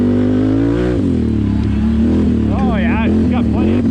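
A Can-Am Renegade XMR 1000 ATV engine idles with a steady, loud drone, then revs up and down in quick blips near the end, heard close and alone.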